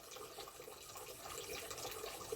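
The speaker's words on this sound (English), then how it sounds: "I hope everyone can hear the little bubbling fountain" A little fountain bubbling faintly and steadily outdoors, a soft, continuous trickle of water with no talk over it.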